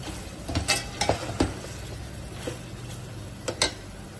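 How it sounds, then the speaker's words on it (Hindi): Beef seasoned with salt, crushed cumin and coriander fries in a pot, a steady sizzle punctuated by several sharp scraping stirs and clanks of the spoon. "गोश्त की जो है अच्छे से हमने भुनाई करनी है।"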